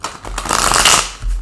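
Tarot cards are given a single quick shuffle close by, a brief papery riffle that rises and fades within a second or so, with no talking.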